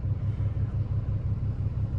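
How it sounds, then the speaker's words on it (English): A 2021 RAM 2500 Cummins Limited Longhorn diesel with a 4-inch straight pipe idles with a deep, steady pulsing rumble, close and loud, alone without talk. "Push button start. Guys, truck sounds incredible. It does have a 4-inch straight pipe."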